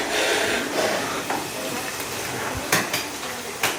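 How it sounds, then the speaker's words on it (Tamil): Chicken frying in a pan at a forest campsite in the Mudumalai–Masinagudi area: a steady sizzle runs under clinking of pots and utensils with occasional scraping and stirring knocks. "இதெல்லாம் சிக்கன் ஃப்ரை ரெடி பண்ணிகிட்ருப்பேன்."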